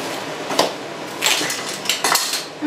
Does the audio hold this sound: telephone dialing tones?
no